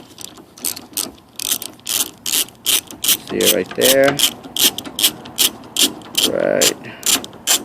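A ratchet backs a bolt out of a BMW E46 window regulator in rapid, evenly spaced clicking bursts, close and loud, with a brief scraping rub partway through and a single short spoken word.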